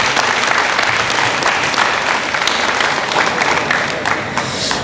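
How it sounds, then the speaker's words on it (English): Dense, continuous applause fills a crowd gathered at a court dedication ceremony, a steady roar of many hands clapping at close range for several seconds. "we should clap for that"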